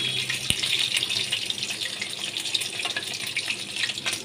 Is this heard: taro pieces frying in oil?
yes